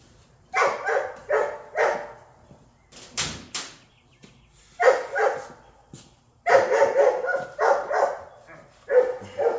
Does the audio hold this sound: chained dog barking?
yes